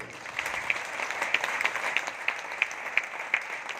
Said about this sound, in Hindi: मैं चाहूंगा जोरदार तालियां